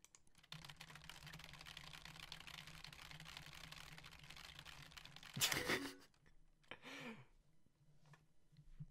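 Soft, rapid keyboard typing from the video game Emily Is Away, quiet and close with steady clicking, broken near the end by a brief louder burst and a faint breath-like sound.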